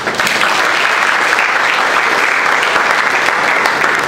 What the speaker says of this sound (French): je vous demande pour leur bravo de les encourager avec un chaud applaudissement